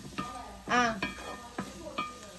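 Kadai chicken masala with cumin and black pepper being stirred in a pan, with several short scraping stirs and a soft sizzle beneath, close and fairly quiet.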